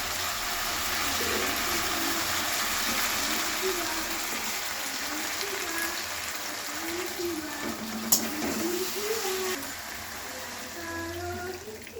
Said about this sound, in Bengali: একটু দুধ দিচ্ছি